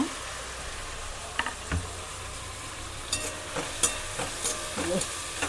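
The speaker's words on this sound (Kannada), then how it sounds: "ಇದನ್ನು ಚೆನ್ನಾಗಿ ಫ್ರೈ ಮಾಡ್ಕೋಬೇಕು ಇವಾಗ ಟೊಮೊಟೊ ಮೆತ್ತಗಾಗೋದಕ್ಕೆ" Tomatoes frying in a pan for coriander dal sambar, a continuous close sizzle broken by occasional stirring scrapes and clinks, no talking.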